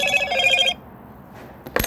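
A mobile phone sounds a repeated electronic low-battery alert, a bright tonal beeping that rings steadily for under a second and then stops, leaving quiet before a short noisy burst at the end.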